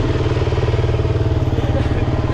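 A Yamaha Banshee 350 engine running while being ridden, a loud, close, steady throbbing two-stroke drone with a rapid pulsing rhythm, with some talk underneath.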